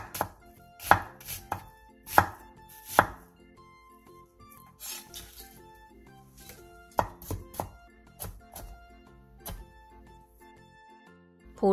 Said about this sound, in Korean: 양파 2분의 1개와 당근 조금을 얇게 채 썰어주세요